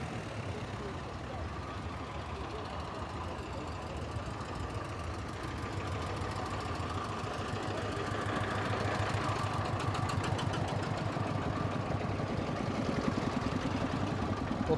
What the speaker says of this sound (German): Alten Lanz Bulldog